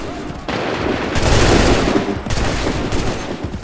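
Sustained volleys of musket gunfire in a battle scene from Assassin's Creed III, loud and dense, with overlapping shots and booms rolling on throughout.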